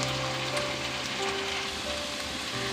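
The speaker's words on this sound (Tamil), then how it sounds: "அதையும் இது கூட சேர்த்து நல்லா வதக்கிக்கலாம்." Onions, green chillies and chicken sautéing in a pan for a dhaba-style chicken curry, making a steady, even sizzle close by with a faint hum underneath.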